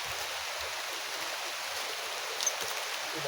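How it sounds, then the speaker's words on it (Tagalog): Heavy rain pours down, a dense, even hiss of broadband noise holding steady for the whole stretch with no voices over it. "Sobrang lakas na ng ulan mga kaidol."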